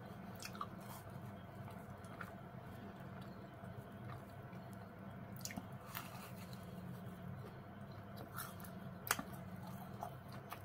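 Close, wet chewing and crunching of crispy-edged fried bread with egg at breakfast, with soft bites and clicks spread over a steady background hum.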